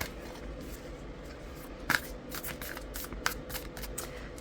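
Tarot cards are shuffled by hand to draw a card, with close, papery riffles and flicks and a couple of sharper snaps standing out. No talking.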